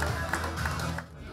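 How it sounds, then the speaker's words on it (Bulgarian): Applause at an award ceremony, a brief, dense wash of crowd clapping that is loud and full throughout, with a slight mix of audience voices. "Аплодисмент."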